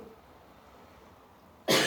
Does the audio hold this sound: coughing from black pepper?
yes